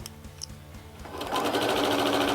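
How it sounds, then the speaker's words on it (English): A sewing machine stitches a straight seam on a quilt block for a springy pinwheel quilt, starting quietly and then running fast and steady, loud and close, with no talk. "I can just sew all along my straight line."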